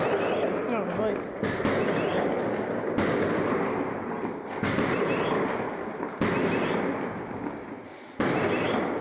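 New Year fireworks and firecrackers pop and crack in sharp repeated bursts with irregular spacing, mid-distance and loud, while people talk over them.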